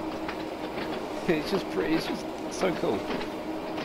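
An underground train runs through a tunnel in Train Sim World on the Island Line at night, giving a steady rumble with faint clickety-clack and rattles. Someone talks over it throughout.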